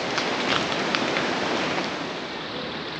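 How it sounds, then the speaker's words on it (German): Steady rain falls in the Dominica rainforest, a dense, even hiss of drops on the leaves overhead that stays constant and fairly loud throughout, with no voices. "Es regnet und es scheint die Sonne."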